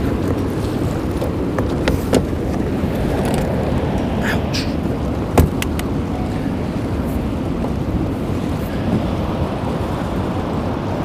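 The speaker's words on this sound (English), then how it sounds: "Still running my motor to try to keep myself in one spot up here." Steady low whir of an electric trolling motor holding a fishing boat in place on open water, a continuous near drone with faint splashes and a few brief clicks, alone without talk.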